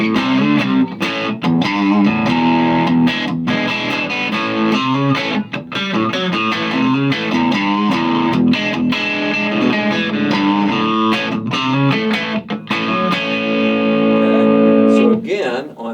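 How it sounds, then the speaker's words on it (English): An electric guitar is played through a Roland Blues Cube Artist amp with distortion, bright and presence turned fully up. Loud, sustained overdriven chords and riffs run for the whole stretch with short gaps between phrases. "But here's some distortion."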